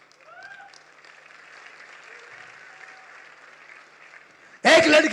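A short, loud burst of audience applause erupts at a comedy show at the Kanpur Dehat Mahotsav, following a quiet stretch of faint room sound.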